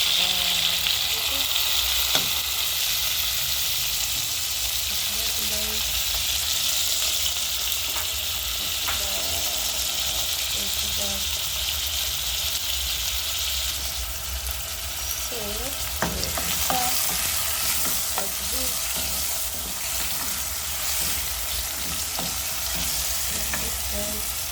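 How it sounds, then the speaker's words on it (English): Chopped tomatoes fry in a pan with a steady, loud sizzle while a utensil stirs and scrapes through them at intervals, with no talk. "I think at this point we are going to add our already chopped tomatoes."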